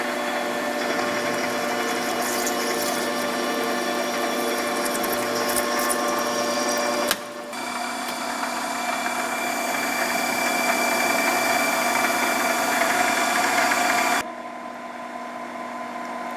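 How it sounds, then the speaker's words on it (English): A lathe facing a workpiece with an inclined cutting tool gives a steady, close mechanical whir with tonal gear hum, interrupted by two abrupt shifts in level. "With facing, you will incline your cutting tool in order to allow only to the cutting edge to touch on your workpiece."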